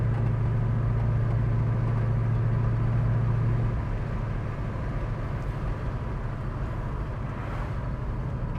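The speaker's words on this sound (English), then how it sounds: "We're gonna put on the brakes and see what the car stops like." A 1966 Ford Mustang slows under braking from about 53 mph, a steady broadband road and engine rumble with a low tone that fades out partway, leaving quieter rolling noise; no talk.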